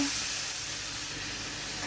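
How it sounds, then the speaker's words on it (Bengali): Onion paste frying in a pan, a continuous close hiss and sizzle that fades slightly over the short stretch, no talking. "পেঁয়াজটা একটু ভাজা ভাজা করে নেব"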